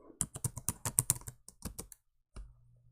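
Quick bursts of computer keyboard typing as a search keyword is entered, a dozen or so close crisp key taps in a rapid run followed by a pause and a final soft tap.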